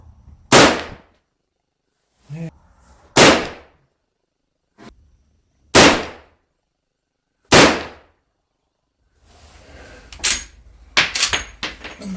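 Sharp, loud rifle reports from a Ruger/Marlin 1894 lever-action at an outdoor range ring out in a slow series of about five well-spaced shots, followed by clattering of handling and rustling near the end.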